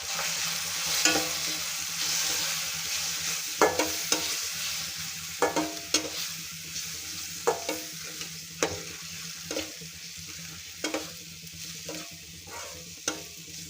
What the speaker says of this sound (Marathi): एक चमचा कांदा लसूण मसाला हे मसाले छान तेलामध्ये आपल्याला परतवून घ्यायचे आहेत